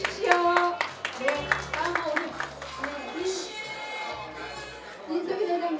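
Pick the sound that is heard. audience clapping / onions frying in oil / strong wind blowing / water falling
audience clapping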